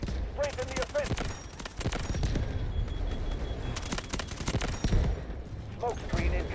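A Bizon submachine gun fires in Delta Force in rapid, crackling bursts amid ongoing battle noise, with short voice callouts and someone speaking in between.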